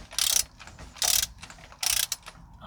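Torque wrench ratcheting in three quick bursts while a spark plug is tightened on a Nissan Primera P12 or Micra K11 in -4C cold, each burst a crisp close metallic clicking run with quiet gaps between.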